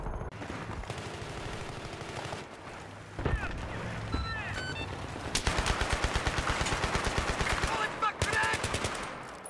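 Automatic gunfire in Battlefield 3 Rush mode comes in rapid bursts, with sparse shots early, then sustained fast rattling fire and a final burst, close and loud.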